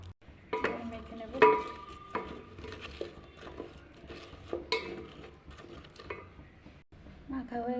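Teasel gourd and okra being mixed by hand with turmeric and salt in a home kitchen: soft scattered clinks, rustles and taps of vegetables against a bowl, irregular and fairly close, with a few sharper knocks.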